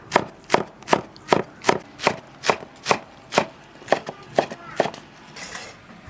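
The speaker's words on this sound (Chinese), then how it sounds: "先把刺儿叶子切碎" A kitchen knife chops thorny leaves on a cutting board for rolled buns in a rural home kitchen. Crisp, close blade strikes come one by one in a steady rhythm, about a dozen over several seconds.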